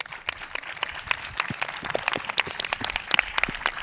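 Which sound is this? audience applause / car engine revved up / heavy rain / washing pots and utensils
audience applause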